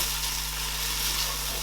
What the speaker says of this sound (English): I'm going to add our ginger and garlic, and I'm going to let it fry for about 2 to 3 minutes.